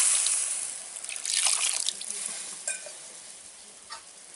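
Tamarind water pours and trickles into a pot of vatha kuzhambu for a few seconds, a soft steady splashing with a faint sizzle, then small drips toward the end.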